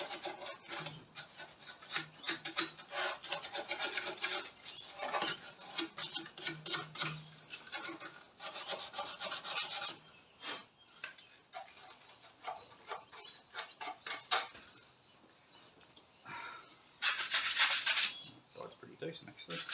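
Coarse emery cloth rasps against a car's ground points on a Mazda RX7 FC project car, with irregular scratchy strokes continuing close up throughout, sometimes louder and faster.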